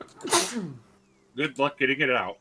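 A single sharp sneeze bursts out close up at the start, followed after a short pause by people talking.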